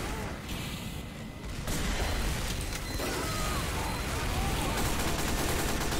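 Gunfire in the Team Fortress 2 video game, a dense roar of overlapping shots and explosions that swells louder after the first couple of seconds and then stays constant, harsh and close.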